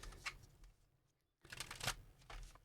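Tarot cards being shuffled and drawn by hand, two close, crisp bursts of riffling with a brief silent gap between them, quiet and alone.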